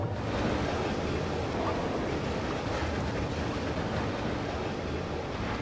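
Water rushing from one tank into another in the puzzle game Limbo, a steady, dense wash of flowing water that holds at an even level throughout with no voices.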